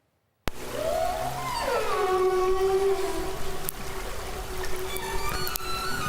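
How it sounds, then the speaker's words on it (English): Underwater whale calls from orcas and humpbacks, picked up by a hydrophone off Vancouver, play as long tonal wails and sweeping whistles that glide down and hold over a steady hiss of water noise. "broadcasts the songs of orcas and humpbacks and other marine music"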